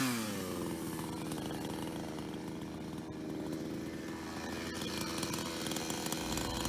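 A chainsaw cuts into a huge wooden pillar on inherited land, its engine roaring steadily and loud throughout, close by, with no pauses or talk.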